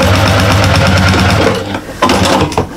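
A sewing machine with a walking foot stitches up the sides of a fabric bag, running as a loud, steady close-up whir that pauses briefly and then restarts in short bursts.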